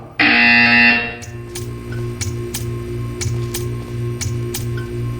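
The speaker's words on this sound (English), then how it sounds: "You will hear a buzzer." A loud, harsh buzzer sounds once in the Portal 2 video game, holding for about a second before cutting off, followed by a series of quieter, evenly spaced ticking clicks.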